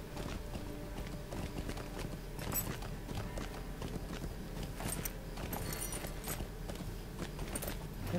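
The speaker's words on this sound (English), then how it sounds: "Yes, I'm mounting my horse on the stairs." Horse hooves clip-clop at a steady gallop in the video game Lord of the Rings Online, a continuous quick rhythmic patter over game ambience and soft background music.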